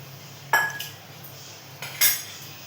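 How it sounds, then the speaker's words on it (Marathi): A metal kadhai is set down on a stove with a couple of sharp metallic clanks and clinks, separated by quiet, as oil is added to heat in a home kitchen. "इथे आपण कढई ठेवली तापायला, त्यात आपण तेल टाकतोय."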